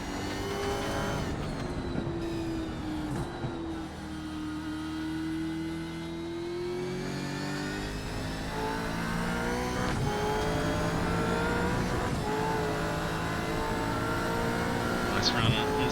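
A Supercars race car lapping Barber Motorsports in iRacing, its engine droning and rising through the gears with steady harmonic whine, downshifting into corners, a commentator talking over it.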